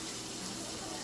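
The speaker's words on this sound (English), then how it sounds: "Oh, you had to add water." Water runs steadily from a tap into a container for microwave macaroni and cheese, a brief continuous gushing rush heard up close.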